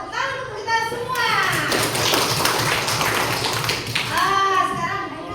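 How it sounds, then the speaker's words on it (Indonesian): A classroom of children claps together, a dense burst of hand claps mixed with children's voices, following and followed by an adult teacher speaking. "Tepuk tangan untuk kita semua."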